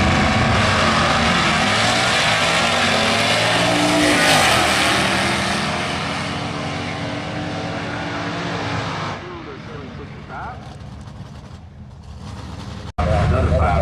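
Drag race car with a 281 cubic inch modular engine and Holley carburetor roars loud and sustained at high RPM, its pitch sweeping as it pulls away, then fades into distant noise before a sudden cut.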